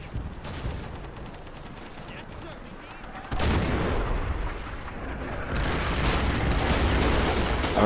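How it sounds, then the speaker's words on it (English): Battlefield artillery and gunfire in the World War II shooter Darkest Hour during the Battle of the Bulge, a dense continuous barrage of booms and shots that swells louder partway through. "Alright, the artillery's working."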